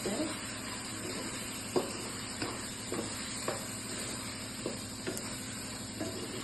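Mutton liver frying in a pan with chili powder, cumin powder, coriander powder and salt: a soft, steady sizzle broken by regular scraping and clicking from stirring, with no talking.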